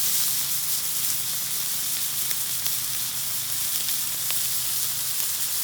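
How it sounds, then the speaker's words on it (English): Close, continuous sizzle and crackle from NY strip steaks frying on a Blackstone griddle, a steady bright hiss with scattered small pops throughout. "Love that sizzle."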